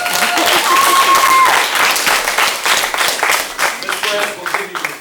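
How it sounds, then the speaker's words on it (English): A crowd applauds at a family martial arts center belt ceremony, with many hands clapping steadily for several seconds and the sound gradually thinning toward the end. Some voices can be heard faintly beneath the clapping. "Give Ms. Perez a big round of applause."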